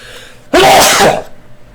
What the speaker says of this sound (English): then I sneeze